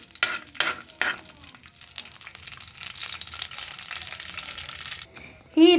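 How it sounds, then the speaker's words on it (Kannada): Cashews and raisins frying in hot ghee give a steady close sizzle, with a few sharp stirring scrapes near the start and a louder clatter right at the end. "ಈ ರೀತಿ ತುಪ್ಪವನ್ನು ಹಾಕಿದ ನಂತರ ಗೋಡಂಬಿ ದ್ರಾಕ್ಷಿಯನ್ನು ಹಾಕಿ ಇದನ್ನು ಹೊಂಬಣ್ಣ ಬರುವವರೆಗೂ ಹುರಿಯಿರಿ"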